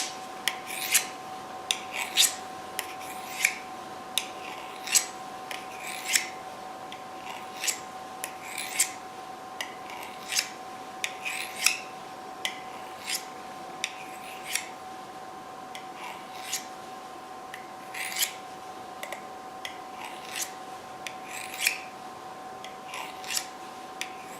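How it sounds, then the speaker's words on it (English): Steady, rhythmic scraping strokes, roughly one per second, of a knife drawn along a sharpening steel after work on a tri stone, fairly quiet and close over a constant faint background hum, with no speech. "go ahead and run it on the steel again"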